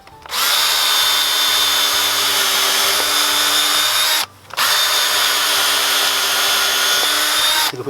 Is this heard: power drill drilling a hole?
yes